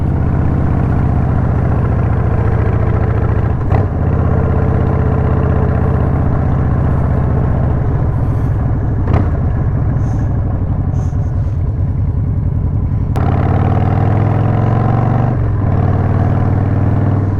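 A 2003 Harley-Davidson Sportster 100th Anniversary motorcycle idles steadily up close, its loud, lumpy V-twin rumble holding a constant low throb with brief blips in pitch and no talk.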